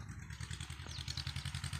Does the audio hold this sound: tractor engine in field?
yes